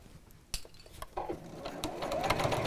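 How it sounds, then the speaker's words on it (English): A sewing machine stitches fabric up close, starting with a few clicks and knocks before settling into a steady, faster whirring run of needle strokes. "So slowly sew, taking the clips out as you go."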